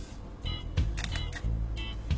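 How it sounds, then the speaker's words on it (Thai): A Fuji camera shutter fires remotely over wifi, a few close mechanical clicks and whirs in quick succession, crisp and fairly loud, with no speech. "ถ้าเราจะกดชัตเตอร์เรากดตรงนี้กดได้เลยนะครับ"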